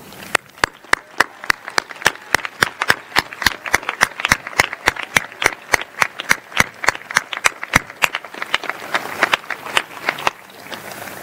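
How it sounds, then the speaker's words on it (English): A commencement audience claps in steady unison for the seniors' parents, sharp, even beats about two to three per second that go on for several seconds before loosening at the end. "let's give them a round of applause"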